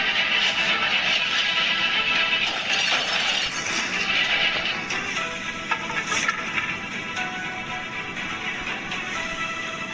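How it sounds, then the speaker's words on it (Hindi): Car window glass shatters and crunches in a sustained, loud burst of breaking and tinkling fragments that continues for several seconds, then settles into lighter scattered clinks and debris. "अभी इनके कार का शीशा तोड़ा है"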